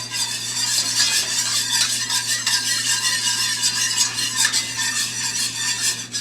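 Continuous scraping and stirring of a dark Louisiana gumbo roux in a cast iron skillet over very low heat, a steady close rustle with faint utensil clinks and no talking.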